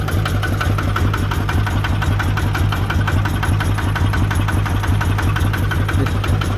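A new 140-unit engine on a Thai E-taen farm vehicle idles steadily and close up, a loud, continuous mechanical chug with a fast even knock that holds unchanged throughout.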